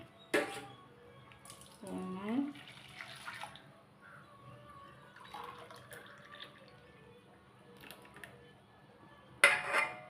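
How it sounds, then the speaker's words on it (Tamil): Fruit juice is poured and measured into a tumbler in a home kitchen, giving soft liquid splashing with light clinks of glass and utensils, moderately close, with a sharper clatter at the start and end. "இந்த நகாப்பழ சாறு வந்து அளந்து ஊற்றிக்கலாங்க"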